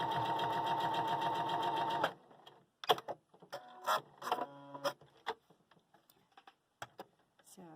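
A sewing machine stitching a quarter-inch seam on a quilt block runs in a fast steady whir for two seconds and then stops. Scattered clicks and handling taps follow, close up.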